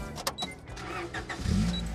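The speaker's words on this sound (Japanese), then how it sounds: "やっぱこのセルがいいですね。 ホンダの安定の。" A Honda Integra DB8 Type R with a stock ECU is started, its starter motor cranking briefly before the engine catches with a louder, low rumble near the end, close by and alone.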